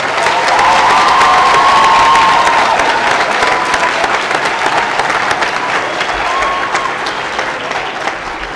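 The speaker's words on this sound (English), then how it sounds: "I would like to ask you all to join me giving a round of applause to the faculty and staff and our students" A large crowd at a high school graduation ceremony gives a sustained round of applause, dense and loud, with scattered cheers and whoops rising over the steady clapping.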